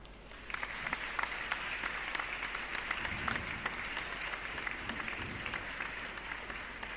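Steady applause from a crowd, many hands clapping continuously at moderate volume with no voices over it, in The Sims 4.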